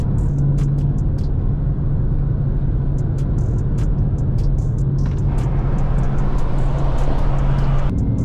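A 2016 Dodge Charger SRT Hellcat produces a steady, loud, low engine rumble that holds throughout, with a few faint higher ticks riding on top and no voices.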